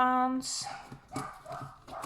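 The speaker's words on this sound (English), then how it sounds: "Apologies if you can hear the dog barking." A neighbour's dog barks a few times at a distance, short muffled yaps under a woman's speech after a brief electronic tone.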